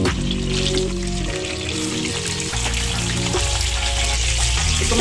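Ring-cut vegetables, round slices, hit a hot pan for a Kashmiri mixed veg pulao and fry steadily, a loud continuous sizzle with bubbling crackle throughout, no voices.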